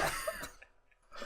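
A brief cough with a throat-clearing quality comes at the start and again near the end, fairly faint and close, with a quiet gap between.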